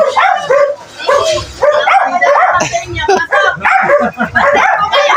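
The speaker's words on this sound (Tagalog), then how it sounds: "Natakot kami sa aso." A dog barks repeatedly in quick yips and bow-wows, loud and close, while people talk and call out over the barking.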